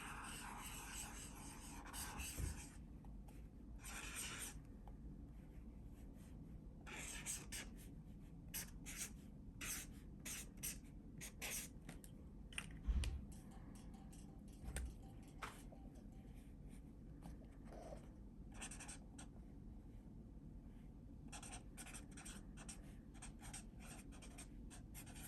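Chisel-tip pen scratching across paper in short quiet strokes and pauses, soft rasping close up in a hushed room.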